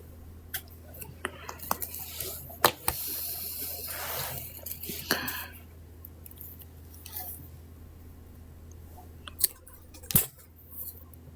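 Scissors snip through beading thread while a dark green bead necklace is made, a few sharp close clicks and snips scattered among faint handling rustles and a low steady hum.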